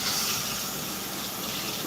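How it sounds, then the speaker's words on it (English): A kitchen tap runs ice cold water into a bowl, a loud, close, steady hissing gush that fills the whole moment with no speech over it. "Now I gotta fill up this bowl with ice cold water."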